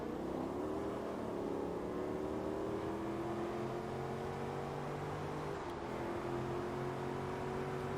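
A Corvette engine in Forza Motorsport 2 drones loudly and steadily at high revs in fourth gear, its pitch slowly climbing, briefly dipping around a shift, then holding a sustained roar throughout.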